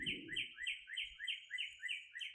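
Birds chirp outdoors on a morning birding sit, with quick, bright calls repeating in a steady rhythm, clear and fairly close, and no voices.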